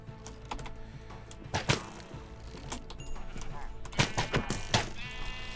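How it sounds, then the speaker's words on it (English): Sheep bleating in the Minecraft video game on a cosy farming village build, repeated bleats over busy keyboard typing and other game sounds, with a player talking at times. "Oh, don't hit my sheep."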